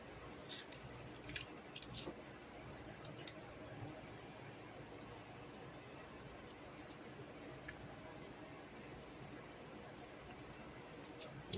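Scissors snip through parchment paper in a home kitchen while bacon is prepared for a BLT, giving a few quiet, crisp cuts clustered early, then sparse faint ticks against low background hiss.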